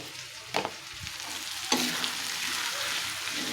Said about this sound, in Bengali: মরিচের গুঁড়া, হলুদের গুঁড়া দিয়ে আরো ভালো করে কষাই নিব।